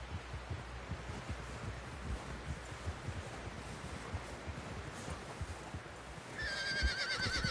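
A horse in the video game Red Dead Redemption 2 moves with soft, low thudding hoofbeats under a windy background, then lets out a loud, clear neigh at the end.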